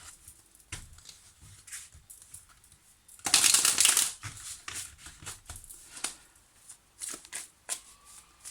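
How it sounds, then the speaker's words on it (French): A tarot card deck being shuffled by hand, a burst of loud riffling flutter in the middle between softer card taps and handling sounds, close and without speech. "je vais prendre un autre tarot, voilà, pour faire ce premier tirage"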